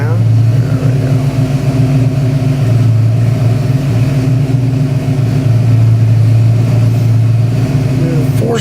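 A 383 cubic-inch small-block Chevy crate engine with Sniper EFI, running on a dyno, holds a loud, steady rumbling idle with slight rises in revs throughout.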